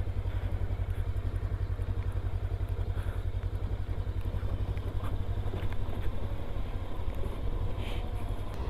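JAWA RVM 500 Adventure motorcycle riding on gravel, a steady, fairly quiet engine thrum continuing throughout with a loose crunching, clattering texture from the surface and no break in the sound.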